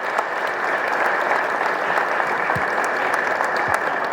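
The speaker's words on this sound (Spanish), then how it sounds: "Vamos a brindarle un fuerte aplauso al 85 Batallón de Infantería" Loud, sustained applause from an audience at a talk on the Mexican Revolution in Durango, greeting an infantry battalion's war band; dense, even clapping from a sizable crowd continues throughout with a couple of low thumps.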